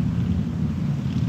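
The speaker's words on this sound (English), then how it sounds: "It's pretty windy today" Strong wind blows across a beach, buffeting the microphone with a steady low roaring rumble and no voices.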